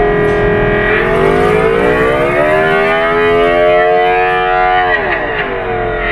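Ola S1 Pro electric scooter in Bold mood playing its start-up sound: a loud, sustained synthetic whine with layered harmonics that rises and sweeps like a siren for about six seconds, dipping near the end, with no talk.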